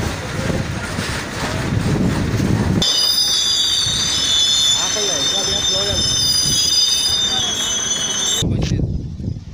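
Goods train loaded with coal rolling past near Kondapalli, a close rumble of wagons followed by sustained high wheel squealing and clatter, with a voice briefly audible before the sound cuts to quiet.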